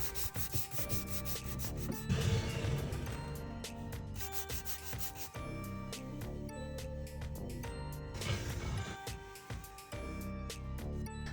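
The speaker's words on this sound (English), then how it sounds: "We're sanding off the excess of this wood filler" Continuous abrasive rubbing of sandpaper over wood filler on a small wooden cabinet, steady back-and-forth strokes close up, swelling in two stronger passes, with no talking.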